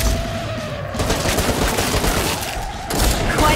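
Gunfire from weapons in the video game Killing Floor 2, a dense, continuous fusillade of rapid shots and booms with no pauses, loud and close throughout, with a heavier burst near the end.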